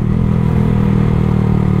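Motorcycle fitted with a loud aftermarket exhaust on a group ride in Ladakh gives a steady, deep rumbling drone, close and loud, holding an even throttle with no voices.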